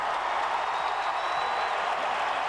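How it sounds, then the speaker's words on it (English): Vanderbilt basketball crowd roaring after a dunk in an arena game against Kentucky, a steady wash of loud cheering and applause from a large crowd with no break. "That got the Vandy crowd back into the game."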